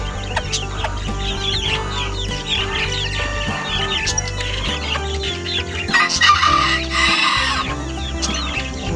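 Bantam hen clucking among other poultry in a farmyard, repeated close clucks over a dense backdrop of bird calls and chirps.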